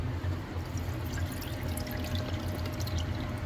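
A resin wash station on an Anycubic Photon M3 Max 3D printer, its magnet-driven impeller churning water in the tank, giving a steady, close, rushing swish of agitated liquid with no talk.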